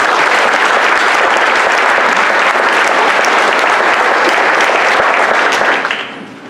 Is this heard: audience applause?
yes